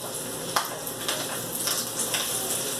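Chicken drumsticks frying in a hot pan give a steady broadband sizzle throughout, with a few brief utensil or spatter clicks over it and no talking.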